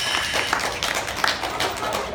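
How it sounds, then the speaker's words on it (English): An audience at an event introducing divers claps continuously, a dense, close patter of many hands filling the whole short stretch without pause. "Let's give them a great big round of applause."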